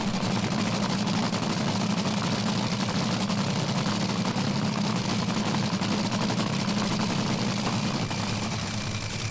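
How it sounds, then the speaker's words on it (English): A supercharged Top Fuel dragster engine idles at a drag race, a deep, steady mechanical drone that stays loud and unbroken for about nine seconds, with no voices. "The big supercharger hat there, sucking all that air into the engine."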